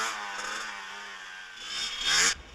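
A motorcycle engine held at a steady buzzing idle as a new rider learns clutch control, then a brief louder throttle rise near the end before it drops back.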